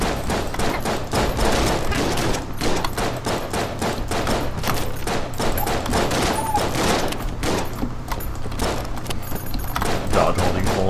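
Gunfire from the game Enter the Gungeon during a fight with the Bullet King, a dense rapid stream of shots and bullet impacts popping in quick succession over a steady music bed, with no talking.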